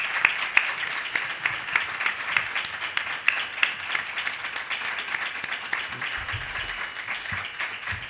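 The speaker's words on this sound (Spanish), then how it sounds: "un aplauso para Juan Ignacio Blanco" Audience applause after a criminology lecture, a steady wash of clapping from a crowd with a few sharper nearby claps, moderately loud and sustained without talk.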